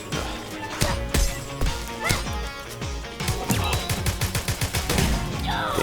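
Enemy gunfire in the action game Vernal Edge, a run of sharp, rapid impact bursts and crackling hits, with a dense rhythmic volley building in the second half over game music.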